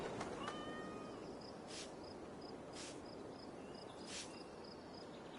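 Cats meow in the Assassin's Creed Valhalla game, with a soft mew near the start over a steady hiss of crickets and outdoor ambience. Brief bright chirps recur throughout at low volume.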